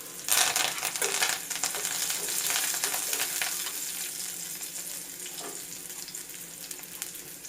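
Shallots and curry leaves sizzling in hot oil in a pan for pirandai rasam, a loud, close crackling fry that surges at first and then settles into a steady hiss, with no talking.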